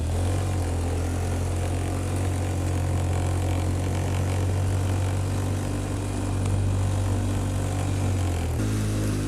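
A Polaris Sportsman 600 ATV engine idling roughly with the choke off, a steady loud mechanical drone with a low throbbing hum that dips near the end as if about to stall.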